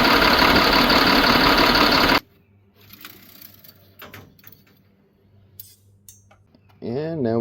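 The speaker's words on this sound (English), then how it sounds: "Now we can go ahead and start our engine, and we'll let it run" A Caterpillar C7 Acert diesel engine runs close and loud with a dense, steady clatter for a couple of seconds, then cuts off abruptly, leaving quiet shop noises and a brief voice at the end.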